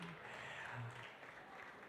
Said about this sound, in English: big applause to all of you athletes competing yesterday